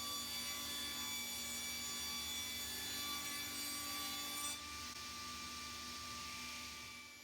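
A saw fitted with an overhead guard cuts through a thick piece of wood, giving a steady, sustained whine with a constant grinding rasp that shifts slightly partway through and then eases off.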